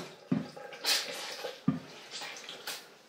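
A washcloth is rinsed under running tap water, with close splashing and wet wringing sounds, two sharp splashes standing out over a steady trickle, with no talking.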